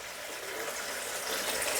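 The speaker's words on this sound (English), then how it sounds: "Water from my kettle" Water pours steadily from a kettle into a bowl, a continuous splashing gush that builds slightly toward the end, with no voices.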